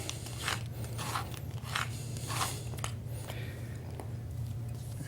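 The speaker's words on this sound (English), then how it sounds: "Cut that circle out," A blade cuts a circle out of a Tandus Powerbond carpet tile, making a series of rough, crunchy scraping strokes in a steady rhythm over a low background hum.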